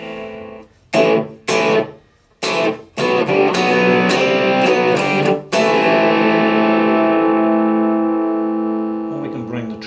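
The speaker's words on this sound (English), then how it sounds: "Still got a bit of distortion because those old 30 watts are like that." Distorted electric guitar chords through an old 30-watt valve amp, a few short choppy stabs with pauses, then a long sustained chord ringing out and slowly fading.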